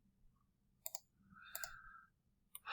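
Sharp mouse clicks in Revit software during work on a site plan and cover sheet: a few quick double clicks spaced apart, crisp and close in a quiet room, with a brief soft tone between them.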